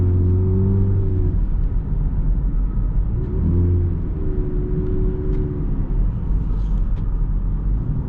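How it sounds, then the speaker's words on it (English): A car engine under a feather-light throttle rumbles and gradually rises in pitch, a smooth, aggressive-sounding acceleration with a steady low drone and no one talking. "you barely touch the pedal and the car is like so aggressive"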